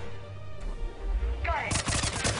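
Mass Effect 3 video game gunfire on the Sur'Kesh level, a quick burst of rapid loud shots near the end following low rumbling game sound, with a voice talking at the start.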